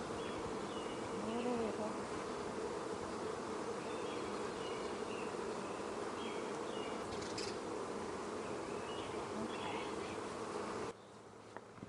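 Honeybees from an overwintered hive hum in a dense, continuous buzz during an open hive inspection, close and steady, with a few brief soft spoken words.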